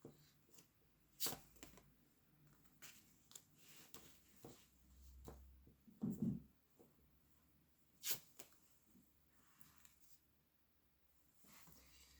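Tarot cards shuffled and handled in short bursts of soft riffling and tapping, quiet and close, with gaps of near silence between them.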